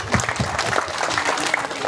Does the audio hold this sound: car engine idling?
no